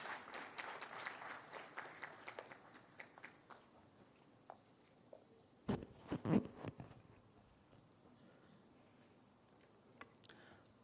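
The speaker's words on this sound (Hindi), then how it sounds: "आइए तालियों की गड़गड़ाहट से स्वागत करते हैं मंत्री श्री जी का" An audience claps to welcome a minister onto the stage at a BRICS youth entrepreneurship event, a faint, thin patter from a distance followed by a few scattered louder claps.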